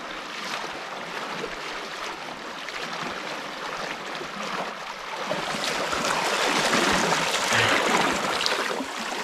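People wade through belly-deep stream water in the Alaskan wilderness, with continuous splashing and sloshing that grows louder and nearer toward the end.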